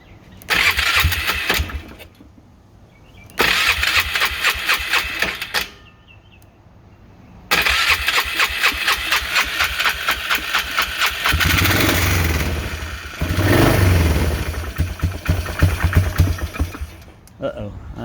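A Polaris Trail Boss 325 ATV with a carburetor problem and the choke partly on sputters into life, cuts out, then restarts and settles into an uneven, loud idle with revving bursts close by.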